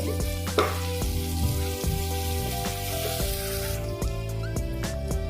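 Chopped coriander stems stirred into Schezwan chutney frying in a pan, a continuous sizzle with sharp scraping clicks of the spoon against the pan and a steady background hum.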